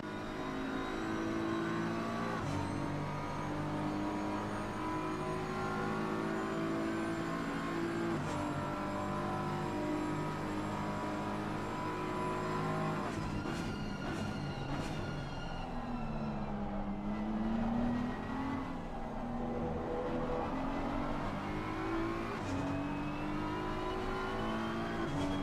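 Sim-racing engine sound of GT3 race cars, a BMW running among Lamborghinis in Assetto Corsa Competizione at Indianapolis, with steady engine drone and shifting revs rising and falling throughout, continuous and fairly loud with no talk.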